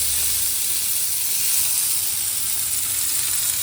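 Seven or eight mutton keema vadas frying together in hot oil, a steady, loud, close sizzle and hiss that holds evenly throughout before cutting off abruptly at the end.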